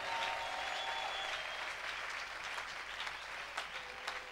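A church congregation applauds and cheers for Jesus at a worship service, a steady wash of clapping that fills the whole stretch with a few sharper claps near the end.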